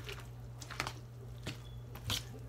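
Wet squishing and squelching as creamy pasta salad with noodles is stirred together, several soft separate squishes close by, fairly quiet over a low steady hum.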